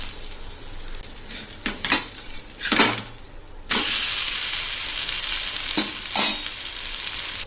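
An onion wheat dosa sizzles on a hot tawa after a light coating of oil, giving a steady, close frying hiss with a few sharper crackling bursts and a brief lull before the sizzle swells again.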